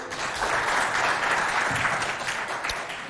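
Studio audience at a televised school quiz contest between two secondary schools applauds a correct answer, steady dense clapping filling the whole moment at moderate loudness.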